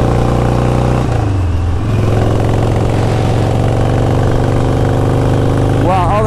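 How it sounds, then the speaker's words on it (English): A 1983 Harley-Davidson Ironhead motorcycle engine runs with a loud, lumpy idle and a brief throttle blip near the start, continuous and close. "That mean old Harley sound to it."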